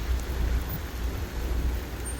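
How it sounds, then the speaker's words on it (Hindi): Steady heavy rain drums continuously in Medina with a deep low rumble of thunder underneath, no voices present. "ओह वाह, बहुत ज़्यादा बारिश आ चुकी है।"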